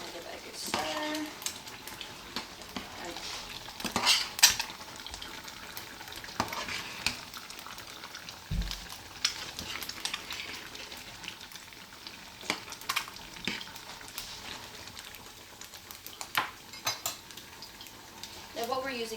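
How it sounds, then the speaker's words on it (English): Beans with fresh coriander stirred in a pan, giving quiet scraping and clinking of a spoon against metal over a soft continuous sizzle, faint and steady throughout. "I'll give it a good stir."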